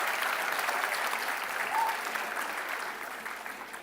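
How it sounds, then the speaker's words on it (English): An audience at a BBA convocation ceremony claps steadily for the students, with dense, even applause that fades slightly toward the end. "Kindly clap for the students."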